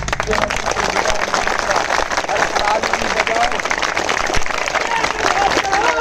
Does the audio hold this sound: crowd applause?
yes